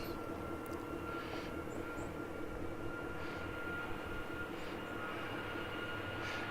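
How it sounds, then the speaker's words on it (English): An airplane takes off from Sacramento International Airport, a steady jet engine roar heard from a distance that stays level and continuous for several seconds, with a faint voice briefly in the background. "we got one leaving the tarmac"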